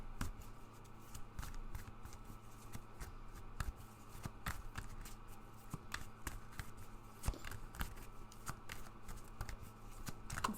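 Tarot energy cards being shuffled, a steady run of soft papery riffles and flicks with quick clicking taps spread evenly across the stretch, close and fairly quiet with no talking.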